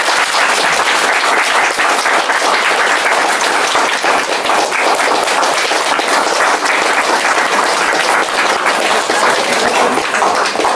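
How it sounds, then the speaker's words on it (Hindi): Wedding guests applauding, a loud, dense and continuous crowd clapping that holds steady for the whole stretch. "ताली हो जाए।"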